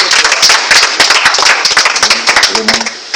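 A church congregation claps and cheers in praise of the Lord, a dense, loud wash of applause with voices mixed throughout.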